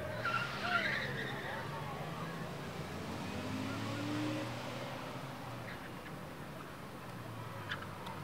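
Ford and Chevy Monte Carlo cars launch in a spectator drag race at Rockford Speedway, engines roaring and tires squealing at a distance, fairly faint and steady under a commentator's voice.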